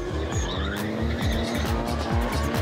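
A drifting car, running with a group of stunt cars and performers at a show, slides with loud, continuous tire squeal and skidding over a steady roaring engine, close and sustained throughout.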